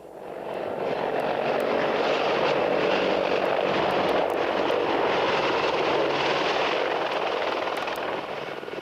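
A military combat helicopter flies close by, its rotor and engine roaring loud and continuous for several seconds with a rough, throbbing texture and no voices.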